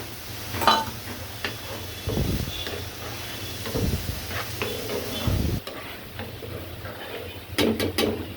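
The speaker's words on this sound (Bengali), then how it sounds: "আবারও নেড়ে চেড়ে দিচ্ছি।" A spoon stirs a spiced mixture of ground coconut in a frying pan, with scraping and soft sizzling in irregular bursts and a steady low hum underneath.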